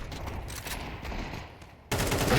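A Counter-Strike match, where a rifle sprays a rapid burst of automatic fire, then a louder crack of shots hits near the end; no voices are heard.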